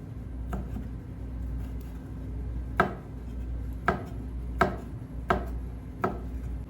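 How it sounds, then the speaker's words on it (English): A knife chops raw shrimp into small chunks for Jamaican saltfish and shrimp fritters, with sharp board knocks at uneven intervals over a steady low room hum. "Then cut the shrimp in small chunks."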